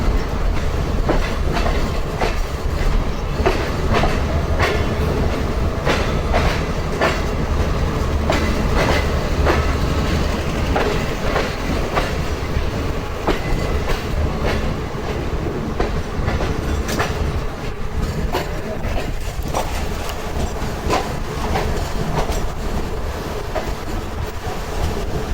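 Steady close rumble of the Allama Iqbal Express passenger train running on rails in Pakistan, heard from inside an AC standard coach, with continuous clickety-clack from the wheels and no voices.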